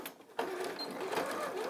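An affordable domestic sewing machine stitching around the outside of a bag starts after a brief quiet moment, then runs steadily with a close mechanical whir and rapid needle chatter.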